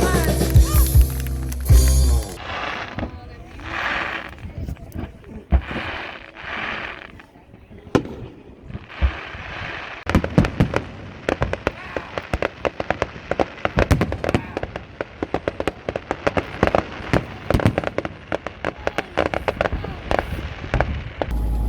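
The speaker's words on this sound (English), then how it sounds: "a big celebration going on for Canada Day with music and amazing fireworks all right next to the marina" Canada Day fireworks pop and crackle in dense, rapid bursts beside a marina in Campbell River, Vancouver Island, with loud booms early on and continuous crackling filling the rest, heard from nearby outdoors.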